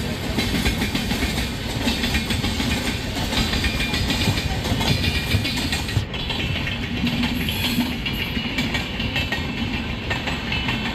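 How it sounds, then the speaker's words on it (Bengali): The Humsafar Express from Tirupati to Howrah passes close by with a steady, loud rumble and dense clattering of wheels over rail joints that runs unbroken through the whole stretch. "এটা হচ্ছে হাওড়া থেকে তিরুপতিগামী, মানে তিরুপতি থেকে হাওড়াগামী হামসফর এক্সপ্রেস"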